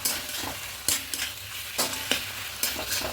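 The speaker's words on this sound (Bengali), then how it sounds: "চিনি দিয়ে খুব ভালো করে মিশিয়ে নেবো" Bottle gourd curry with hilsa fish head is stirred in a pan after sugar goes in, giving rhythmic scraping strokes roughly every half second over a soft background sizzle, close and fairly quiet.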